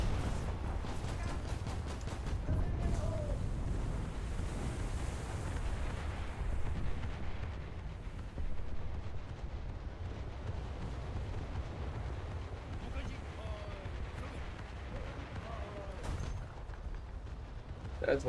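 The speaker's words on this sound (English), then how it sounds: "to drop an artillery strike on their head" Artillery strike explosions in War Thunder roll in as a continuous low, rumbling barrage with scattered heavier booms, fairly distant and steady throughout.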